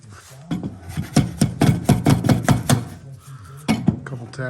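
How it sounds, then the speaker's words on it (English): A non-marking hammer taps trim clips off the body of a Ford Country Squire wagon: about nine quick, sharp, close taps in a steady rhythm, then a short pause and a couple more knocks. "So then I just take a non-marking hammer."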